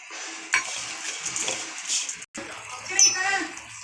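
Grated coconut mixed with fried cashews and raisins for panchakajjaya: a spoon scrapes and clinks against a metal vessel in short strokes, with a brief pause midway.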